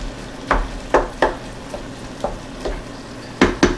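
Ground beef browning in a pan for a Bolognese sauce while it is chopped up, giving a steady low sizzle broken by sharp, close scraping and tapping strokes at an irregular rhythm.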